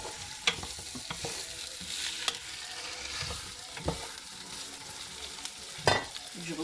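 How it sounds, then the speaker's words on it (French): Cabbage fries in a pan over high heat, giving a steady sizzle with scattered sharp clicks and scrapes from stirring, close and moderately loud, with no talking. "il faut vraiment griller les choux."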